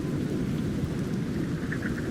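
Rain in the video game ARC Raiders, a continuous heavy downpour with a low rumbling undertone, steady and loud throughout with no voices.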